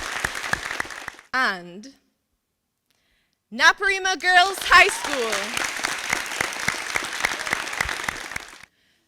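Studio audience at a televised school debate competition applauding the competing schools, clapping rising after a presenter speaks, mixed under talk, then cutting off abruptly near the end.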